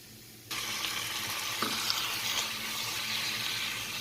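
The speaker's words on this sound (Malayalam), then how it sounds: "ഈ ചക്കയും നെയ്യും കൂടി നന്നായിട്ടൊന്ന് ഒരു മിനിറ്റ് നേരം ഒന്ന് റോസ്റ്റ് ആവട്ടെ" Jackfruit roasting in ghee in a pan switches abruptly from near silence to a steady hissing sizzle, with the occasional soft scrape of stirring. The sound is close but quiet and goes on continuously without any talk.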